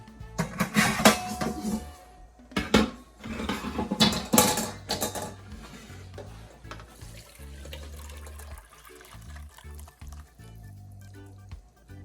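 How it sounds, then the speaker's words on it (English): Coconut liquid for Jamaican stew peas being poured through a strainer, with splashing and metal clinks of the strainer against a pot, busy at first and then settling into quieter dripping and faint handling. "So I'm gonna strain it now."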